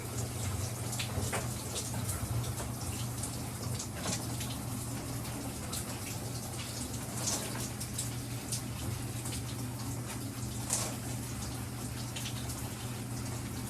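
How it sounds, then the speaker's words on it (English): Hair being shampooed with the scalp scrubbed under running water, a steady close rush of flowing water with faint rubbing and splashing throughout. "Really getting in there and scrubbing your scalp."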